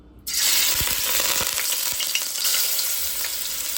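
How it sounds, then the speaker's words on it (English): Food drops into very hot oil and bursts into a loud, crackling sizzle that continues with rapid popping and spattering, close by, with no talking. "Look at how hot the oil has to be."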